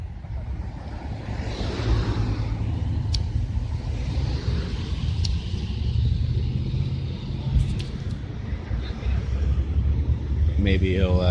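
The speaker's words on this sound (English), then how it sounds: "But now we've got some more traffic noise" Steady road traffic noise washes past outdoors, a continuous rushing rumble of passing vehicles with wind, fairly loud and unbroken, with a brief electronic chirp near the end.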